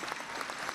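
A brief burst of audience clapping greets people at a church welcoming for an archbishop, dense many-handed applause in a hall, moderately loud and continuous.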